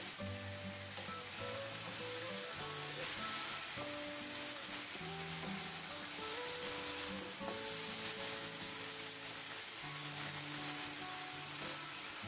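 Red pepper goes into a pan of tomato sauce simmering on the stove for an Italian-style meatloaf, giving a faint, steady sizzle and bubbling under quiet background music.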